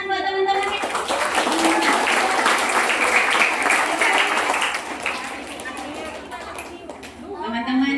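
A group of children claps together at a storytelling session, a dense steady patter of small hands lasting several seconds before fading, with an adult voice speaking at the start and end.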